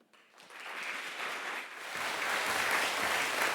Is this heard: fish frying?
no